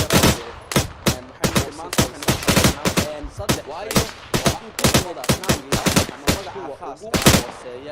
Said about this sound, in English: We take fire from the Molitians shooting at us.